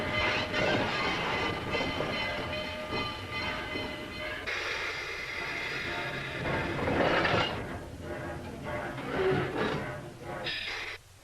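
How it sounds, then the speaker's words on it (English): A railroad locomotive being run around its train at the end of a Pennsylvania shortline, heard nearby as a steady rumbling engine drone with rail clatter and some metallic squeals, no talking. "while we run the engine around the train"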